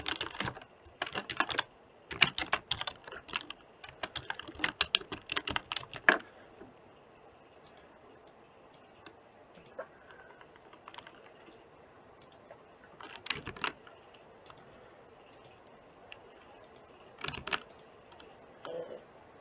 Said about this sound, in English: I guess I'm typing this again.